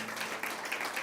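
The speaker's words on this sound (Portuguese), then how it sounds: "Se você crê, dê um aplauso forte para Ele." Congregation applauding during a church service, a steady wash of many hands clapping at moderate volume throughout, with no clear voice on top.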